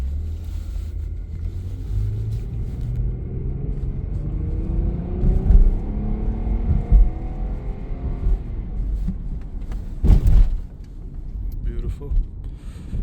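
Hyundai Santa Fe V6 SUV being driven, with a steady low engine and road rumble that rises as it accelerates, a few thumps and bumps, and a sharp knock near the end.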